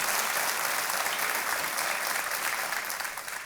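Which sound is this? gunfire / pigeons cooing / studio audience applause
studio audience applause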